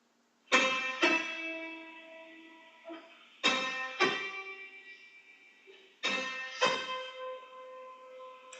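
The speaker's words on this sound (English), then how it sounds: "That's a melodic interval." Notes played one after the other as a melodic interval: three pairs of struck notes in quick succession, each pair separated by a pause. The notes ring and fade cleanly and alone.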